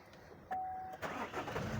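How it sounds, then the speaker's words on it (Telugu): A 2015 Chevrolet Cruze with sunroof cranks with a short electronic chime, then the engine catches and settles into a low idle, heard close and clear in a quiet setting. "స్టార్ట్ చేసి చూపిస్తాను చూసుకోండి"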